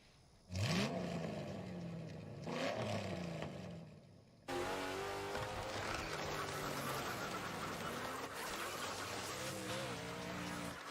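A hand-blown duck-style call gives two loud, nasal quacking honks close up, then a steady race-truck engine drone from a Bristol event takes over.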